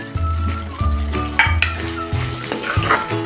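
A red pumpkin vegetable dish is stirred in a pan, with a spoon scraping and clanking against the metal in repeated strokes over a steady soft sizzle, close and loud.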